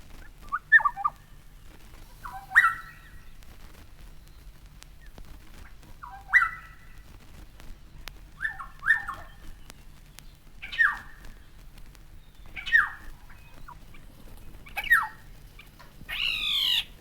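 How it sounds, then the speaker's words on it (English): Black-headed Oriole calling from treetop height, with repeated sharp chirring alarm calls spaced every couple of seconds, fairly clear against a quiet outdoor background. "the Black-Headed Oriole, a restless bird with a greater variety of calls than may be thought"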